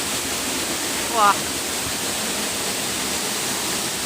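Water pouring down the Saeng Chan waterfall makes a steady, full rushing roar that fills the whole clip, with a brief exclaimed voice rising above it once.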